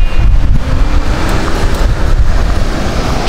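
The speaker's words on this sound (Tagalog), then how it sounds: "ang lakas ng hangin sa laot" Strong wind buffets the microphone aboard a small outrigger boat out at sea, a loud, gusty roar with low rumbling and faint water wash underneath, no talking.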